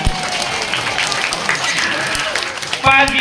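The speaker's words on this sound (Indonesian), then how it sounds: "Tepuk tangan dong buat ayamnya." Audience applause and crowd noise at a Maulid Nabi storytelling event honoring a rooster, steady and fairly loud throughout, with a voice speaking over it and a louder burst near the end.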